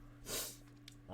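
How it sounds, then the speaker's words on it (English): One sharp nasal sniff from someone with a cold, close and fairly quiet, against a low steady hum, with a voice just starting at the end. "So I got the sniffles."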